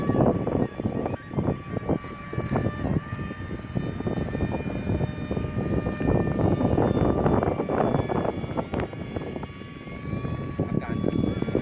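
An RC model Su-47 jet plane flies in strong wind, its motor whining steadily with drifting pitch over constant wind rumble and buffeting; a voice talks at times.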